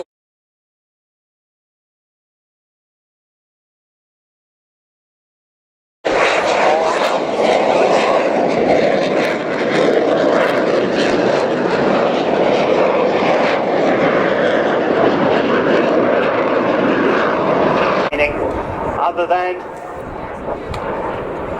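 BAC Jet Provost and Strikemaster jet aircraft fly past. After several seconds of silence, a loud, sustained engine roar starts abruptly and dips slightly near the end.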